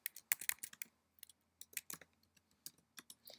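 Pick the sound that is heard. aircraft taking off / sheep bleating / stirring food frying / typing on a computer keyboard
typing on a computer keyboard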